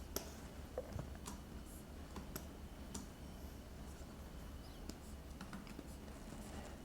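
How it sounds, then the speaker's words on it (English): Pen tip drawing on the matte surface of a Huion Kamvas Pro 19 pen display, faint soft scratching with scattered light taps and clicks at an irregular pace over a quiet background hum. "I can actually hear the pen tip make a sound against the matte surface"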